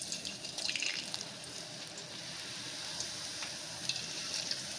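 Sweet potato slices fry in hot oil, giving a steady, soft sizzle with scattered light crackles and pops that run unbroken throughout, close and fairly quiet, with no talking.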